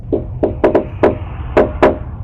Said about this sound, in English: The intruders keep knocking, shouting for the resident to come out